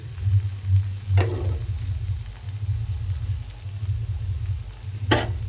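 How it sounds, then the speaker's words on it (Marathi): Fish fries in oil in a pan, giving a steady, close sizzle with scattered pops and crackles throughout. No one speaks. "थोडं तेल टाकून घेऊया जेणेकरून दुसऱ्या साईडून जे आहे व्यवस्थित भाजली जाईल मच्छी"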